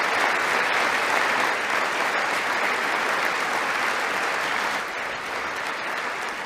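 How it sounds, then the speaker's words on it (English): A large audience claps for service members in a sustained, dense wash of applause that stays loud and even throughout, easing slightly near the end. "Can we get some goddamn claps for our brave boys?"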